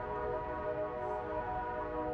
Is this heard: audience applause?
no